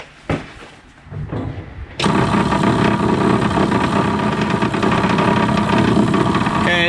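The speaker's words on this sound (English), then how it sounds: "The fuel pump sounds terrible" Fuel pump of a 1961 Morris Minor pickup switched on, a loud steady buzzing drone that starts abruptly after a couple of seconds of faint clicks and handling noise, then runs continuously and evenly at close range.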